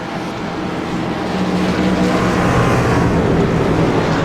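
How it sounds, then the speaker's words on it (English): Race cars come around the track out of a turn, their engines a dense roar that swells steadily louder as the pack approaches, with no voices over the top. "I hear some of these guys in first gear coming around"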